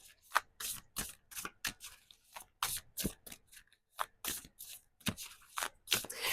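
Oracle cards are shuffled and pulled by hand, giving rapid, close, papery riffles and flicks in irregular bursts with short gaps, soft overall.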